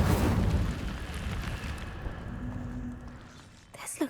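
An Incendio fire spell in Hogwarts Legacy bursts with a loud whooshing, rumbling blast that slowly fades, after a voice shouts the incantation and before a short thump at the end.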